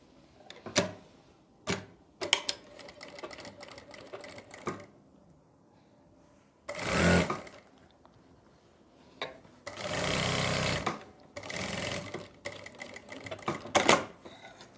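An electric sewing machine stitches palazzo pant fabric in short intermittent runs, each burst a rapid mechanical whirring chatter separated by pauses and soft handling clicks, with a longer continuous run midway.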